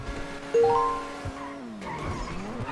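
Car in GTA Star Town lets out a short, sharp tire squeal while driving, then its engine hums on at moderate loudness with no talk over it.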